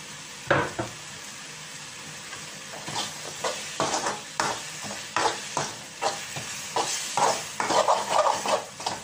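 Fish curry masala with curry leaves, Kerala style, sautéed in a pan: a spoon repeatedly scrapes and stirs in a steady rhythm over a soft, continuous sizzle, close and clear.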